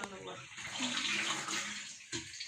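Water runs steadily from a tap, splashing as chicken is rinsed under it, with brief pauses in the flow.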